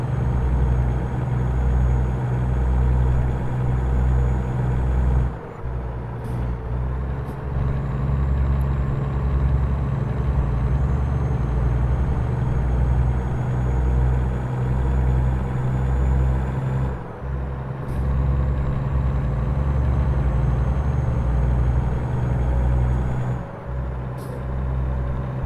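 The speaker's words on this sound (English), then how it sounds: "Throw on Z brakes." Air brakes on a truck in American Truck Simulator hiss in several sharp bursts over a constant low diesel engine drone, with no talk.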